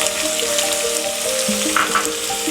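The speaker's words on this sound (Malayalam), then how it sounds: "ഇനി ഇതിലോട്ട് നമുക്ക് ഉള്ളി ചേർത്ത് കൊടുക്കാം." Chopped onions sizzling in a hot pan with chicken for a chicken omelette, a continuous crackling fry with a faint stirring scrape, backed by soft music.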